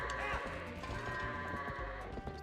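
Goats in the video game Twilight Princess bleat in a short burst of wavering, nasal calls over a busy layered game soundtrack.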